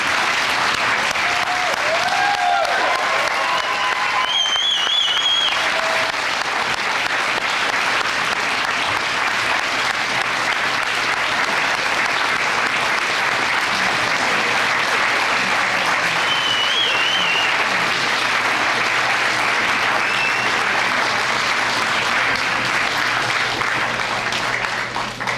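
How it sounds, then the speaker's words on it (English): Steady, dense applause from a large audience at the EMS Summer Academy class of 2014 graduation ceremony, loud and continuous throughout with faint cheers and whoops mixed in early on. "You can keep clapping. Let's give them one more round of applause."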